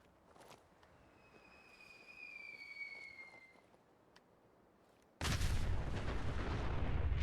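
Enemy blind-fire gunshots in the Fallout 4 game: a loud, dense burst of gunfire breaks out abruptly near the end and continues steadily, following quieter ambient game sounds with a faint high whine earlier.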